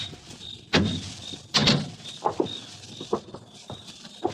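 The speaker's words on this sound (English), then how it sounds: "Open the door, Ruth." A door is opened as a radio drama sound effect, a couple of loud knocks or thumps followed by a series of lighter clicks and rattles, against a faint steady tone.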